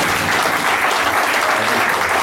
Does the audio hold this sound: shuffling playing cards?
no